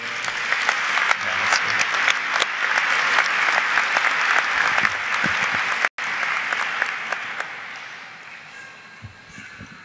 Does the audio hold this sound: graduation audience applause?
yes